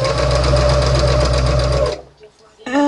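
A sewing machine stitches fabric scallops in a steady, loud run of even whirring that halts after about two seconds, with quiet pauses following and a brief burst of the motor restarting at the end.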